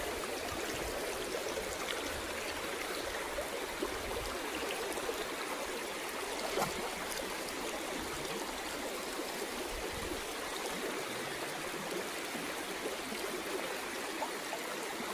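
Swamp creek in central Alabama, its current rushing steadily with an even, full hiss and soft gurgle, continuous and close with no voices.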